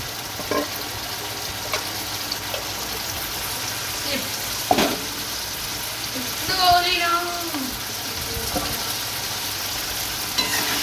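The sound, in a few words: stirring spices frying in a pan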